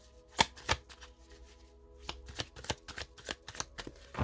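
A deck of tarot cards being shuffled and cut by hand, a series of crisp close riffling and tapping snaps spaced irregularly over a quiet background, with no talk.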